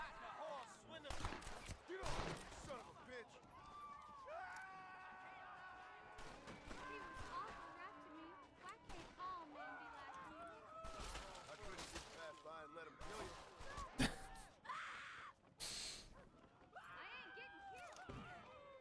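Scattered gunshots crack out in a Red Dead Redemption shootout, sharp isolated reports and short volleys spread across the scene, mixed with character voices and background game sounds.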